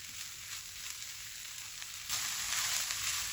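Three pieces of green chili sizzle in hot oil in a pan, a steady close frying hiss that grows louder and brighter partway through, with no voices.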